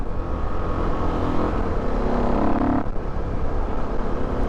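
A modded Suzuki DRZ 400 SM supermoto with hot cams pulls hard through first and second gear. Its engine roars loud and steady and close, with a brief dip near the shift.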